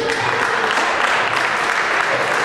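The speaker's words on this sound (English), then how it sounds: "Give him a big round of applause." An audience applauds a guest at a talk on steel pans and Caribbean music, loud, close, continuous clapping throughout.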